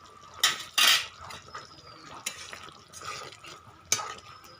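A spoon scrapes and clatters against a pan as half a spoonful of garam masala is stirred into a yogurt-based pointed gourd curry, with several sharp clinks near the start and softer scraping strokes after.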